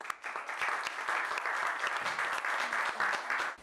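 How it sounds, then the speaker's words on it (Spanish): An audience applauds to welcome guests at a talk on graphic narrative, with clapping that is steady and fairly close and scattered sharp individual claps standing out from the crowd. "Les pido un aplauso para recibir a nuestros invitados el día de hoy."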